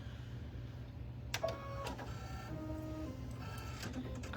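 A sewing machine tacks a quilt backing and stitches front and back together, with short mechanical clicks and brief whirring bursts over a quiet room hum.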